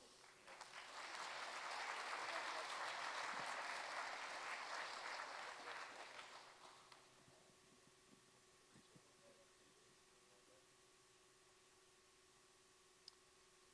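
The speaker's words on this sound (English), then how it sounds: "one more round of applause for all the great students from St. Benedict's Episcopal School" A hall audience applauds award-winning students at a school education awards ceremony, with sustained, moderately distant clapping that swells and then fades out after about six seconds, leaving a quiet room with a few faint clicks.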